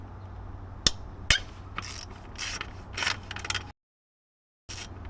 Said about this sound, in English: The next steps I do are remove these bolts, and these are 12mm.